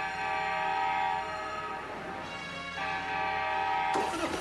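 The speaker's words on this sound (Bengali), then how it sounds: "train train পুয়াপ পুয়াপ" A train rumbles past with a long sustained horn blast, loud and close, and a sharper burst of noise near the end.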